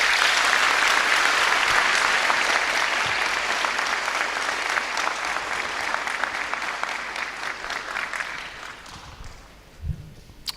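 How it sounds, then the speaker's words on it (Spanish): A church crowd breaks into strong applause for two pastors, loud and dense at first, thinning and fading over the final seconds, with a brief thump near the end. "Recibámoslos con fuerte aplauso."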